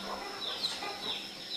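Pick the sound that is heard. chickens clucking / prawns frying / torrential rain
chickens clucking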